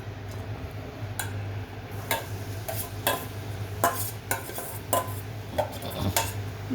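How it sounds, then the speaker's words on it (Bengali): Grated carrots cooking in ghee in a pan for gajar halwa, stirred with a utensil that scrapes and clinks against the metal in irregular taps over a steady low hum. "একটু নেড়ে নিচ্ছি। গাজরের কাঁচা গন্ধটা যাতে না থাকে সেজন্য।"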